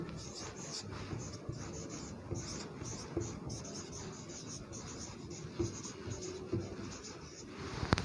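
Someone writes a date on a board, a quiet continuous scratchy scribble of strokes with small taps, faint and close, with no talk.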